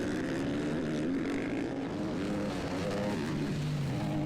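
Supermoto racing motorcycles at a Colombian Grand Prix circuit in Chachagüí roar continuously, engine tones rising and shifting as they pass, a loud, dense blend of several machines with no talk.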